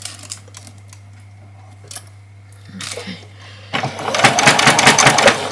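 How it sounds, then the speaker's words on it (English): A sewing machine runs a single row of stitching on a doll's dress, starting as a loud, rapid, steady whirring after a few quiet clicks and handling sounds, and continuing close up to the end. "we're just going to do the 1 row of stitching"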